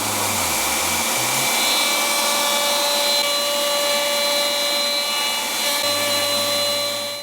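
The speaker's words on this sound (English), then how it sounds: "let's get this neck pocket routed" An electric router cuts an electric guitar neck pocket into a wooden body, giving a loud, steady high-pitched whine that holds at the same level for the whole stretch with no talking.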